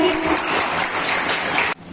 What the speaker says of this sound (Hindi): हमारी तालियां कम पड़ रही है।